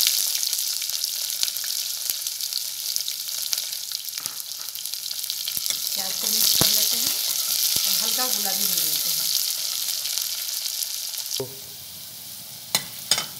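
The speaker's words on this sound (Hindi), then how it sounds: "अब हम इसके अंदर कड़ी पत्ता मिलाएंगे और प्याज डाल देंगे।" Curry leaves and onions frying for sambhar, a loud continuous sizzle with scattered stirring knocks, a brief burst of crackling midway, then the hiss dropping quieter near the end before a couple of final clicks.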